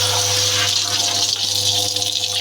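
An LG Fuzzy Logic washing machine drains its water with a continuous loud pump hum under steady rushing, gurgling water, filling the whole short stretch without pause.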